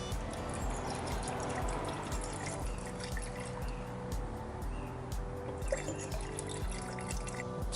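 Mineral spirits pour into boiled linseed oil in a soft, continuous liquid trickle with light drips, close and quiet.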